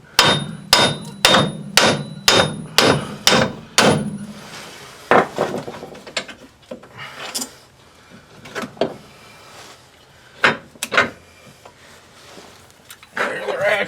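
A hammer strikes a seized wheel hub on a vehicle axle, opening with eight loud, evenly spaced metallic blows, followed by scattered, irregular knocks and clanks close by.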